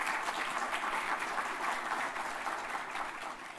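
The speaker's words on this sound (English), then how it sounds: "A round of applause to all finalist teams." Audience applause at the G20 TechSprint final event honoring the finalist teams, a steady, dense clapping from a hall crowd that holds at an even level for the whole stretch and fades slightly at the end.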